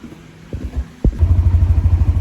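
A motorcycle engine starts after a couple of clunks, then settles into a steady, throbbing idle close by, with no one speaking over it.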